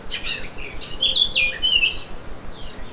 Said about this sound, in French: Dans le cerisier, le retour du printemps est célébré par le chant de la fauvette.